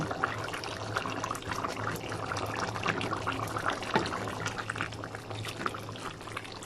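Thickener pours steadily into simmering pork asado for siopao filling, a continuous close liquid trickle and splash without speech.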